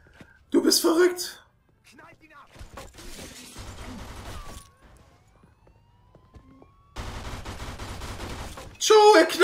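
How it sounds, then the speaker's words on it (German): Bursts of rapid gunfire crackle in several loud volleys, separated by quieter stretches with a siren-like tone, and voices are mixed in, in the video game Mafia 2. "Joe, er knallt hier alle ab!"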